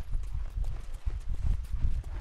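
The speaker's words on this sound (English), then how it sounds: "And my teleporting horse has joined us again." Horse hooves clip-clop in a steady trotting rhythm at close range, from the Ghost of Tsushima video game on PS4, with faint background sound under the hoofbeats.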